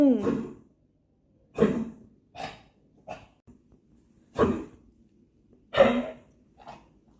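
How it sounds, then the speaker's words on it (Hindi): Six or seven harsh coughs in separate bursts, some sharp and some weaker and raspy, with short quiet gaps between them. "देखा, खूब तेज खांसी हो रही है उसको।"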